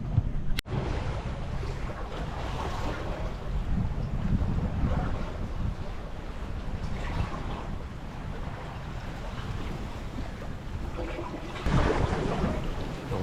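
Blustery, turbulent wind buffeting the microphone aboard a solo sailboat off Martinique near Diamond Rock, a continuous roaring rush with water and hull noise underneath and occasional stronger gusts and knocks.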